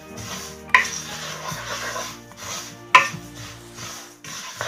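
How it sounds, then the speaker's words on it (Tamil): Sesame seeds dry-roasting in a pan, with soft continuous scraping and stirring broken by two sharp metallic clanks, close and fairly loud. "இந்த எள்ளை நாங்கள் வறுக்கும் போது"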